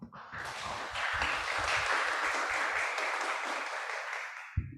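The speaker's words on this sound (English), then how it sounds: "Please give them another round of applause." An audience at a guest lecture gives a dense, sustained round of applause that swells quickly, holds steady, then fades to silence, ending with a single sharp knock.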